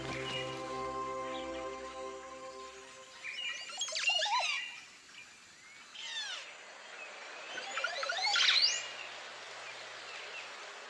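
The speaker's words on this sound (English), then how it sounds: "The male's bubbling, gurgling song during a display of bowing." A male Caribbean bird's bubbling, gurgling display song, sung while bowing, comes in bursts of quick warbling notes, with short pauses between them, against a quiet background.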